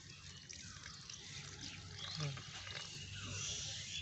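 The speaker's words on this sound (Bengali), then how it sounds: "এখানে আমি দিয়ে দিচ্ছি এক কাপের মতো জল" About a cup of water is poured into a pan of matar paneer masala seasoned with chili powder, sugar and cumin, making a faint, steady trickle and hiss across the whole stretch with no talking.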